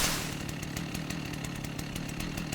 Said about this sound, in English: how groundbreaking this chainsaw was going to be for our wipe